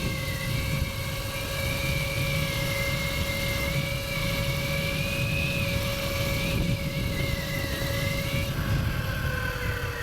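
A Surron Ultra Bee electric dirt bike in sport mode holds top speed, giving a thin, steady motor whine that wavers slightly in pitch over constant rushing wind noise.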